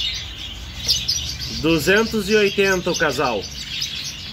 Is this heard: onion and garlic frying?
no